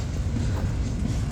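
An Australian freight train working the Bluescope yard, rolling past as a steady low rumble with faint clattering throughout, fairly loud and continuous.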